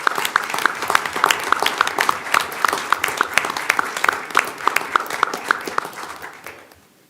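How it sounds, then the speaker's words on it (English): Attendees at a school board meeting give a round of applause, clearly separated claps in a lively rhythm that gradually thin out and fade to quiet at the end. "You guys come up and give them a round of applause."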